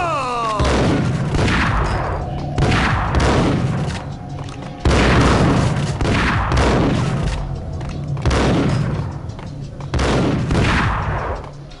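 Repeated loud gunfire bursts from the PS4 version of the video game Max Payne, rapid shots and thuds in clustered volleys roughly every couple of seconds, close and continuous throughout.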